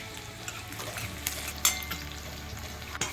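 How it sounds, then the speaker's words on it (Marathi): Onion and curry leaves frying in a pan for an eggplant dish, a soft continuous sizzle broken by a few light stirring scrapes and clicks, close and fairly quiet. "मला छान असं फ्राय करून घेते. कढीपत्ताही ॲड करते."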